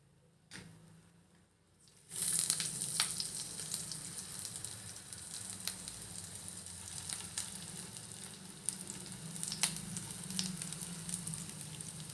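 Stuffed bitter gourds drop into a little hot oil in a pan and start a loud, steady sizzle that continues with small crackles and pops, no voices.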